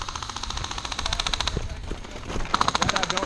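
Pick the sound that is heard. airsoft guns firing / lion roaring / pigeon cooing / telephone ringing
airsoft guns firing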